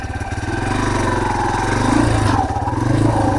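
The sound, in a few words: off-road vehicle engine after downshifting on trail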